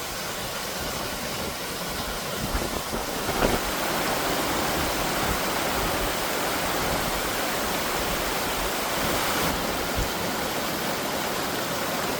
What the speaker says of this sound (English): We've just come across a beautiful waterfall.